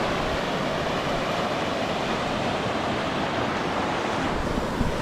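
River rapids in Manitoba rush continuously with a broad, steady roar of churning water, heard nearby with no voices.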